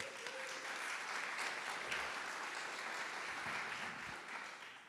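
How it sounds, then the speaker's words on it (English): Sustained applause from a crowd at an annual meeting, steady dense clapping filling the whole stretch at moderate distance. "you should applaud them"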